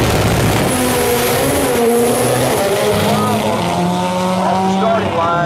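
Drag race cars launching off the starting line at a drag racing event, a loud continuous engine roar with rising and falling pitch sweeps, under a race announcer's commentary.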